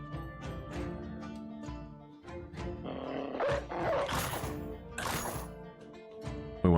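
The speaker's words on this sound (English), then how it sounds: "We want to drop the dogs basically right on top of them." War dogs attacking in a video game battle, a snarling, growling pack with rough barks and roars rising into louder bursts over rumbling battle noise.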